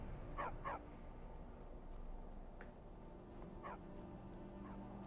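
A dog in Skyrim gives short, faint yipping barks in a few quick pairs, spread out over a steady background hum of game ambience.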